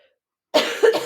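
A person coughs out loud after a moment of silence: a sharp first burst followed by a second, rougher cough close to the microphone.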